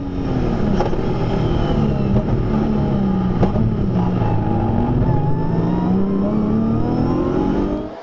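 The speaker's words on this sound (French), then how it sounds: "Un envol que l'on revit depuis l'habitacle de la silhouette BMW MTE piloté par un nouveau venu en BRCC, le rallyman Bertrand Groten" A BMW race car engine heard from inside the cockpit during the 24 Hours of Spa, loud and steady as it climbs and falls through the gears with a constant roar for the whole stretch.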